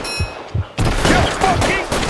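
Gunfire in L.A. Noire, a few sharp shots early on followed by a dense burst of shooting, loud and close, mixed with game voices talking.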